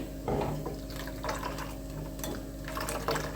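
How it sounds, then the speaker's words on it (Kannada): Water splashing and trickling into a mixer jar in a few uneven bursts, close by, over a low steady hum. "ಮಿಕ್ಸಿ ಜಾರಿಗೆ ಸ್ವಲ್ಪ ನೀರನ್ನ ಹಾಕಿ"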